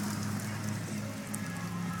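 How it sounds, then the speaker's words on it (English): Hail, ice and sleet fall steadily during a blizzard in New York, a dense continuous patter with a low rumble underneath, heard from inside a car. "Snowing with ice and sleet and hail."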